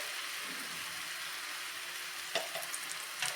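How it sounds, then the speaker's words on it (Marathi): A cucumber ghavan pancake cooks on a pan as ghee is added around its edges, making a soft, steady sizzle close by with a couple of brief louder crackles near the end. "आता परत थोडंसं साईडने तूप सोडून घेऊयात आपण म्हणजे त्याच्या कडा पटकन सुटून येतात"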